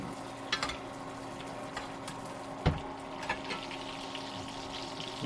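Butter sizzles and crackles in a pan while a sous vide bison ribeye is basted, a steady fry hiss with occasional spoon clinks and splutters, close and fairly quiet throughout.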